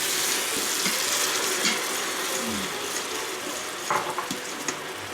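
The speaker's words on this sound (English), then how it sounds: "I'm just gonna add like a splash of water." Water splashes into a hot Instant Pot with garlic, giving a continuous hiss and sizzle with a fan running and a few soft clicks and bumps from the pot.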